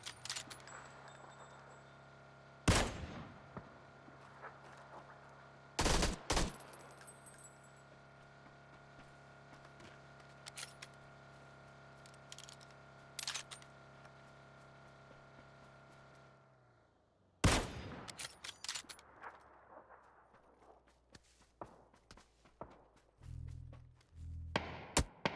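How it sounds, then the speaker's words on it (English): Sparse gunshots from the game PUBG crack out as a few isolated, sharp reports with long quiet gaps and faint rustling between them; no talking. "That's 3 shots. That's 4 shots."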